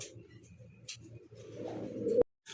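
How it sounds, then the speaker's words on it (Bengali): Low, soft coos of a pair of pigeons at a pigeon sale murmur steadily close by, with a few faint higher chirps, ending in a sharp click before silence. "এক জোড়া সুয়াচন্দর কবুতর দেখতে পাচ্ছেন"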